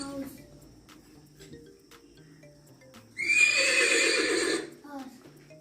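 Horse neighing, a loud drawn-out whinny lasting over a second that rises sharply above quieter speech in a classroom setting with children, then fades back to talk.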